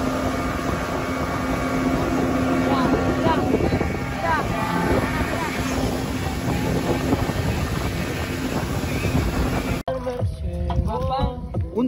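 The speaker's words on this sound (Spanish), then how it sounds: "Otra actividad corta aquí en Coveñas es ir en lancha a un lugar cerca de la playa" A motorboat ride at sea off Coveñas, Colombia, with a steady engine drone, rushing water and wind buffeting the microphone throughout, while people talk over it; the roar drops away sharply near the end.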